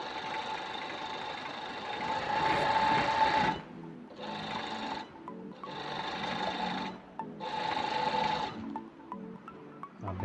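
A sewing machine stitching a picot edge, running in close, steady bursts: one longer run, then three shorter starts and stops with brief pauses between.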